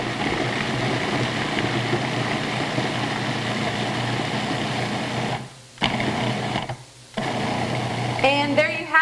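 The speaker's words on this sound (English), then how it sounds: "And then you just turn your food processor on." A food processor rices cauliflower with a loud, steady motor whir and chopping churn, cutting out briefly twice before starting again.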